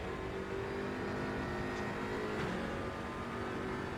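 A McLaren race car in Raceroom at Monza drones past with a steady, loud engine note that blends with other car noise, and there is no talk.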